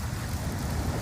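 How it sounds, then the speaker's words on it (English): Hail and rain pound the ground outside during a heavy Thursday afternoon storm on the east side of Lincoln, a dense, steady roar of falling ice and water that holds without a break, with no voices. "We are getting some hail."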